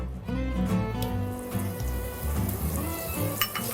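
Margarine goes into a pan of caramelized sugar and sizzles and bubbles continuously at close range, with faint stirring and clinks.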